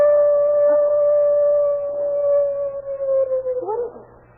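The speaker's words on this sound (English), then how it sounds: "His dog. He's howling about something." A dog howls in a long, steady wail that holds for over three seconds before breaking into a few wavering whimpers, heard close and alone in a dated radio-drama crime scene.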